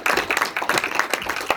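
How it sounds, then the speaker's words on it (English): A small group claps for a film crew member at a documentary screening event, with a scattered, fairly close clapping texture and irregular peaks and no talking over it. "so a round of applause to him."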